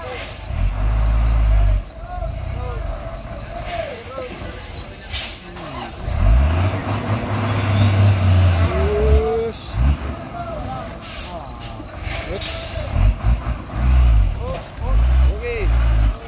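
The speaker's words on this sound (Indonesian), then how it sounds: "Truk ekspedisi diesel." Diesel expedition truck, a Mitsubishi Fuso, idling and revving in a long traffic jam, a deep low engine rumble with a hiss like an air brake, close by under people talking.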